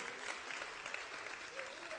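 A church congregation claps in a steady round of applause, faint and distant, with crowd murmur mixed in.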